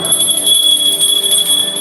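A small bell rings out with a bright, sustained high tone that holds steady and fairly loud across the short stretch, with no speech over it.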